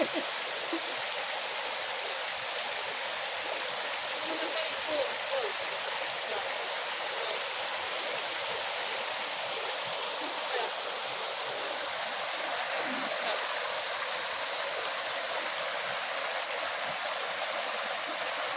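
Babbling stream water flowing steadily and fairly close, a continuous broadband rush with faint gurgles throughout, no voices over it.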